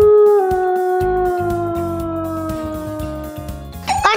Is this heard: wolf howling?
yes